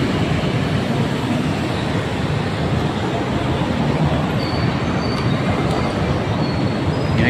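Loud, continuous rail rumble from an MRT train at the EDSA North Avenue common station, with wheel squeal and faint metallic clatter running over the steady roar, and no voices.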